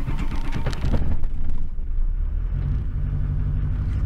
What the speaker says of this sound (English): let's also appreciate the fact that the truck is now straight piped